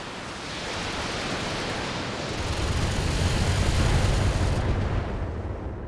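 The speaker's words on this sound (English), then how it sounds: "Oh, that's a mortar. That is a friendly mortar." Friendly mortar explosion in the BattleTech video game, a broad rumbling blast that swells into a sustained roar of debris, fairly loud, then eases off.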